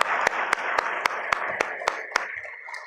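Audience applause at a city's State of the City address: a steady wash of many hands clapping, punctuated by regular sharper claps, fairly close, then tapering off near the end.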